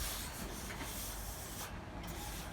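A Van Mark 3015 trim former bends trim stock for house trim, giving a steady, close rasping, rubbing scrape that runs without a break and with no talk.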